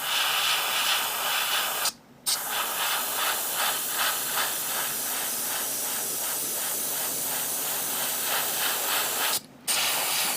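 A continuous airy hiss of a paint sprayer running steadily at low pressure with VicHobby paint, broken by two brief pauses, with no talking.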